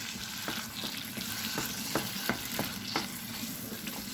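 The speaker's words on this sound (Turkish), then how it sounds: "bunları güzelce bir bol iyice sarımsağımızla birlikte soteleyeceğiz arkadaşlar" Garlic sautéing with sweet pepper paste in a pan, a soft steady sizzle broken by a series of light spoon-stirring clicks and scrapes at a fairly even pace.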